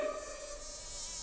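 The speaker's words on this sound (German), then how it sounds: "Ach, so eine dämliche Wespe." A wasp buzzing near a cornfield, a thin, continuous high drone holding steady for about a second, close and fairly even in loudness.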